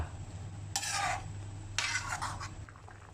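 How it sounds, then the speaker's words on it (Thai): A spoon stirs tilapia pieces into a Thai sour curry with papaya, two short bursts of wet scraping and sloshing in a pot over a quiet low hum. "ขยับขยับ ให้น้ำแกงท่วมเนื้อปลา"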